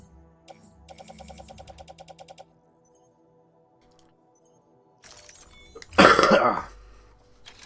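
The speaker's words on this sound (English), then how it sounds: "Sorry, a bit of a cough there." Coughing near the end: one loud, harsh burst with a rough tail, after quiet stretches of soft game beeps and electronic tones.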